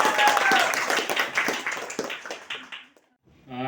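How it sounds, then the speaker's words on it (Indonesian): An audience at a journalism training event on a university campus gives a lively round of clapping that fades out, then goes quiet before a voice begins speaking. "Tepuk tangan dulu yang meriah"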